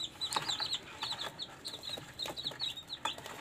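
Newly hatched chicks peep and chirp in quick, high-pitched bursts, close by and fairly soft, with no talking.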